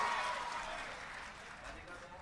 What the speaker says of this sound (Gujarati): ગોપાલભાઈ ઇટાલિયા માટે જોરદાર તાળીઓથી એમનું સ્વાગત કરીએ મિત્રો